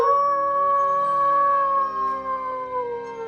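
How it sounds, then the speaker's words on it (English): A long, mournful howl used as a sound effect in a spooky story, a single sustained wavering cry that slowly falls in pitch and fades, heard alone. "The sudden howl made Annie jump."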